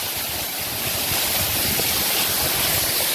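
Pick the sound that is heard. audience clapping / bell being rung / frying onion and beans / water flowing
water flowing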